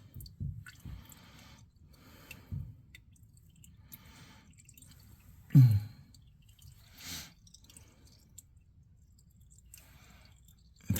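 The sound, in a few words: oil dripping while draining from Kioti NS 4710 tractor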